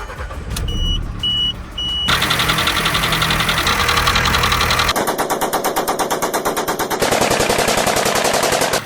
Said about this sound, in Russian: как стучит этот мотор, это отдельное искусство